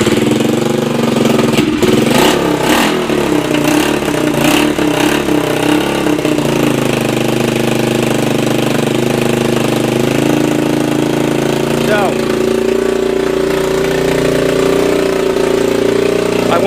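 A 1987 Honda TRX200SX ATV fitted with a pit bike ignition cranks with a few quick starter bursts, catches, and settles into a loud, steady idle close by.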